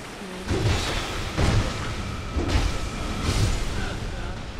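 Soul spear spells cast by enemies in Dark Souls II, a series of roughly four deep whooshing booms spaced about a second apart, each swelling and fading, over a dense ambient rumble.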